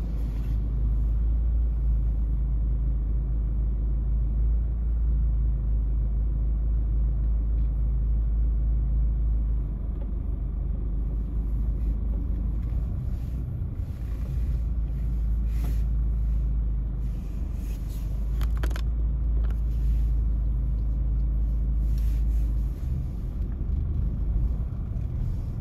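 A car drives a driving test route out of a test center toward Waterloo Road in Cheetham Hill, its engine and road noise a steady, loud, close rumble from inside the cabin with no talking.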